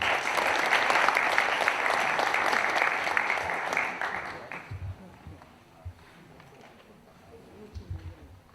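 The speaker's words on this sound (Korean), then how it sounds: "김관한 본부장님을 박수로 모시겠습니다." A large seated audience applauds at a Korean civic presentation on Naju education, welcoming a speaker to the stage. The clapping is dense and sustained for about four seconds, then thins into scattered claps and room noise.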